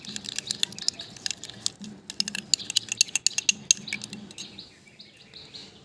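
Vaseline being stirred with lemon juice in a small bowl, heard as quick irregular clicks and scrapes of a spoon against the dish, moderately close and fairly quiet, with no talking.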